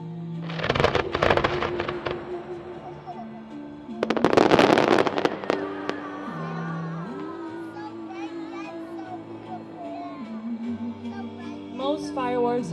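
White strobe fireworks bursting in two loud crackling volleys, each a dense cluster of sharp pops, with a long ringing, hissing tail between and after them and faint voices underneath.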